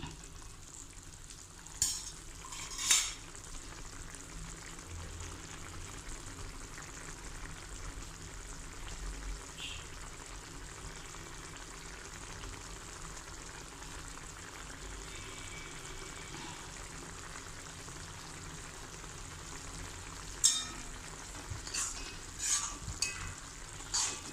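Okra pachadi (vendakkai pachadi) being stirred in a pan over the flame, a soft steady sizzle with a few sharper scraping clinks of the spoon near the start and end.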